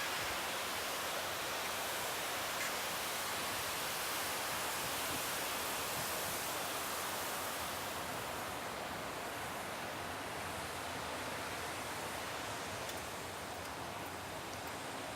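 Water flowing between zones of the Providence wastewater treatment tanks, a steady, dense rushing wash that holds at an even loud level throughout with no voices.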